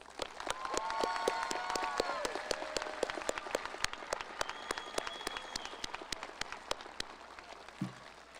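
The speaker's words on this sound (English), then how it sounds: "Let's give them another round of applause." A large crowd at the Amherst County High School Class of 2021 graduation ceremony gives teachers a round of applause, sharp individual claps scattered across a broad, sustained roar that lingers for several seconds.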